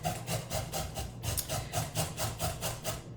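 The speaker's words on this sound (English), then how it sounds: "I'm going to grate a 2nd carrot" Carrot rubbed against a hand grater in a steady back-and-forth rhythm, about a dozen close, crisp scraping strokes with no talk.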